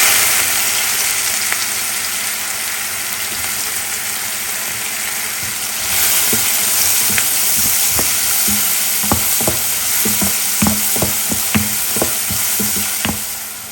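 Sliced onion goes into hot oil already holding cardamom pods and a bay leaf. A constant hiss jumps louder partway through, then a run of crisp spatula taps and crackles follows as the pan is stirred.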